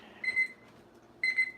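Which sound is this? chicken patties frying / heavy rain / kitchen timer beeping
kitchen timer beeping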